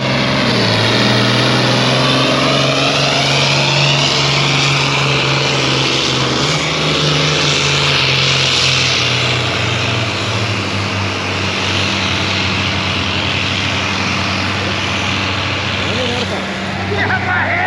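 A pulling tractor roars loud and steady as it drags the sled down the track at a tractor pull, with the engine's drone shifting pitch partway through the long run.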